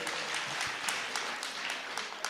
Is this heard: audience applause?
yes